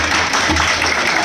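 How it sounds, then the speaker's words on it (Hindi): An audience claps together at a celebratory event, producing a loud, dense, continuous wash of applause that holds steady without breaks. "अपने लिए तालियां नहीं बजा पा रहे हो तुम लोग"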